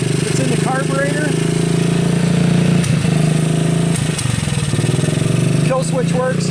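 A Kawasaki KLT 110 three-wheeler's small engine runs steadily and loudly up close, a continuous buzzing drone with a carburetor in need of work, while people talk over it.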